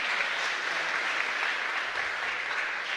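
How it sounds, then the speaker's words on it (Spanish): Applause for a visiting church choir at an outdoor Mass in Luque, Paraguay: steady, dense clapping from a congregation holding evenly for three seconds with no break and no voices on top. "un fuerte aplauso para ellos también"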